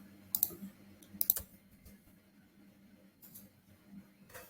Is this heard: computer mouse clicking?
yes